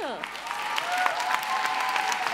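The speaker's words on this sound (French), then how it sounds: "Bah ça c'est inédit, on peut l'applaudir." An audience at a university thesis-presentation final applauds a contestant, with dense, even clapping that fills the stretch and a few voices calling out underneath.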